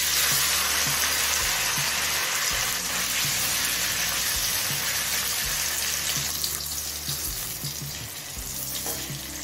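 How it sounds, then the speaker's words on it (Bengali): Paneer cubes frying in hot oil left from frying raisins, a strong, rushing, bubbling sizzle close by that holds steady and eases slightly toward the end, with soft low clatters and no voices. "এবার এই তেলেই পনিরগুলো ভেজে নেব"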